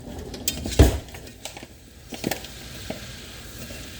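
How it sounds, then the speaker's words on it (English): A utensil stirs flour in a cooking pan, giving a few scattered scrapes and knocks against the metal, one sharper clank near the start, fairly faint with no talk. "You have to stir, stir, stir, stir."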